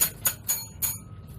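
Bright, metallic bell strikes ring out four times at an uneven pace over a low background hum in an indoor studio, each hit fading quickly with no talking.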